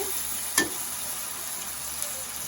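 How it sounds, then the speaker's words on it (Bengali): Onions frying in hot oil in a kadai, with ginger, garlic, cumin and green chili for a lentil dish with Malabar spinach; a steady sizzle is broken by one sharp clatter of stirring and a softer scrape near the end. "তেলটা কিন্তু আগে গরম করে পেঁয়াজগুলো ভেজেছে"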